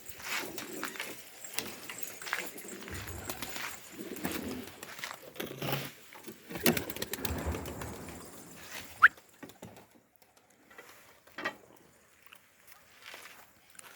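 Pigeons of yellow Hungarian and yellow rose-pattern breeds circle and coo outdoors near a loft, soft cooing and faint rustling of wings and feet under light background noise, growing quieter toward the end.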